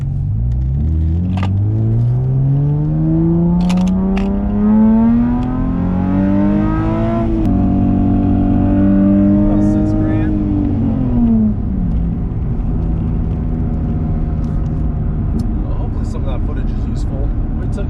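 A Nissan 350Z with a straight-pipe exhaust holds a steady cold-start idle, then revs in a long pull up to about 7,000 RPM before dropping back, its loud droning tone rising and falling throughout.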